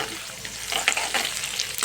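Crushed turmeric root fries in oil in a home kitchen pan, giving a steady close crackling sizzle with stirring scrapes and small pops throughout, no voices.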